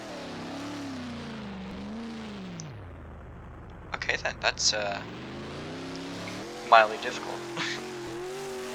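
Engine drone of a race car circling the Dirt Bristol dirt track in Roblox, pitch rising and falling steadily through the laps, with brief tire scrabbles and skids and someone talking over it.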